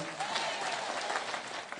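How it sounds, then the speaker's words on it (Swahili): The congregation at a church service gives a short burst of steady applause, fairly distant, with a few voices in the mix. "Mpigieni makofi"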